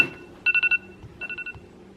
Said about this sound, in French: c'est pour ça que ça sonne mon tel